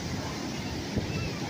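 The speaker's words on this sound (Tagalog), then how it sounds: "Grabing alon yan." Strong sea waves surge and wash in a continuous broadband roar, close to the microphone and mixed with wind buffeting, fairly quiet overall.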